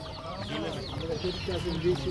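A rooster clucks in short, repeated calls at Jomashuy poultry market, mixed with background bird noise and someone talking nearby.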